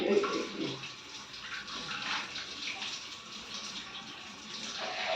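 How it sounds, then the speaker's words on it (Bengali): Water splashes continuously over a toddler's head during a bath, with a steady close gush and occasional faint voices in the background. "আবার মাথায় জল দাও"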